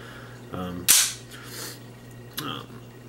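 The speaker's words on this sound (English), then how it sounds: "This gun actually shoots at point of aim pretty well." A Star BM pistol fires one sharp, loud gunshot at an outdoor range, followed by a second, fainter crack about one and a half seconds later, with metallic handling clicks just before the first shot.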